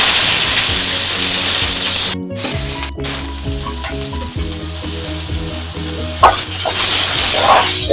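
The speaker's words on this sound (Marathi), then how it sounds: "तेल आता आपलं तापलंय, त्याच्यात कांदा आणि मिरची घालून घेते ही।" Onion and green chili frying in hot oil for a fenugreek leaf (methi) bhaji, giving a loud, continuous close sizzle with a brief stir partway through.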